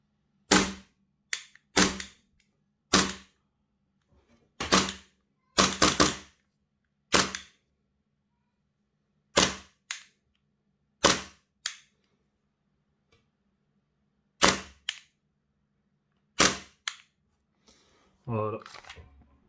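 A Tokyo Marui PX4 airsoft pistol dry-fires on an empty magazine, about a dozen sharp, loud mechanical clacks spaced irregularly at close range, some in quick pairs, with near silence between them.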